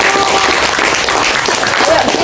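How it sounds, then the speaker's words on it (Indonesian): Loud, dense applause from an audience at a parish gathering after a vote result is announced, steady across the whole moment with some voices mixed in. "Tepuk tangan Bapak Ibu."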